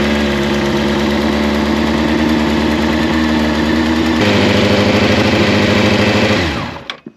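A vehicle engine runs loud and close at a steady idle with a continuous throbbing drone, shifting pitch once midway before cutting off near the end.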